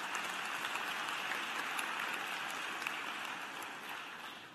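Sustained applause fills a hall at a graduate and professional commencement ceremony, dense and even from a large crowd, easing off slightly at the end.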